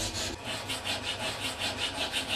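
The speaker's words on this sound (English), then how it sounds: "File it down until it's completely flat" A rasping file scrapes back and forth across a homemade water rocket nozzle clamped in a vise, steady rhythmic strokes about four per second, close and fairly loud, no talking.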